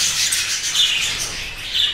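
Home-bred budgerigars squawk and chatter as a flock, a dense, nearby wash of high-pitched chirps and squawks with a few sharper calls standing out.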